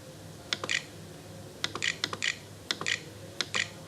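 Typing on a computer keyboard: short clusters of crisp key clicks in quick bursts separated by brief pauses, close, over a low steady room hum.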